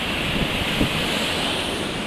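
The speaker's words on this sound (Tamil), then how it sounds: "பாருங்க அலைகள் எல்லாம் வந்துட்டு இருக்கு." Continuous surf noise at Auroville beach, Pondicherry, washes over the scene, a broad steady hiss of ocean waves with wind buffeting the microphone.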